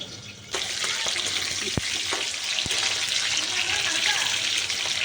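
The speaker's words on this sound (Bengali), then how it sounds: "বন্ধুগণ মাংসের জন্য আলু ভাজা করছি" Potatoes being fried for a meat curry give a continuous crackling sizzle throughout, with a couple of sharp clicks partway through.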